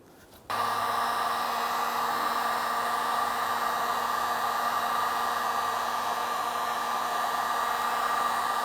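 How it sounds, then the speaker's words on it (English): A heat gun switches on abruptly and blows with a steady, loud whirring hum while heating a plastic tailgate molding on a Nissan Frontier, running unbroken after the click at the start. "Now you don't want to stay too long using a heat gun"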